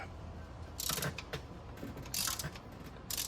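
A torque wrench pressed into use as a ratchet while fitting new spark plugs on a Toyota Taco truck gives bursts of close ratcheting clicks, separated by short pauses, over a low background hum.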